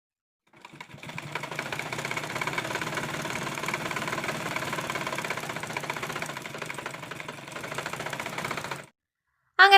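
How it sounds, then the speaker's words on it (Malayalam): A sewing machine runs for about eight seconds in one steady, loud, close whirring burst as it stitches a folded fabric edge on a child's dress, then stops abruptly. "ആ ഒരു ഭാഗം വരെ നമുക്ക് ഇതിനെ മടക്കി സ്റ്റിച്ച് ചെയ്ത് കൊടുക്കാം"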